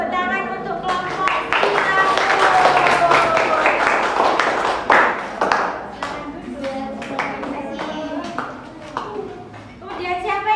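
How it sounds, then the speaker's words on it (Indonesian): A classroom applauds a student group after its presentation: sustained clapping from many hands over the whole stretch, fairly loud and close, with children's voices and chatter mixed in. "Beri tepuk tangan untuk kelompok"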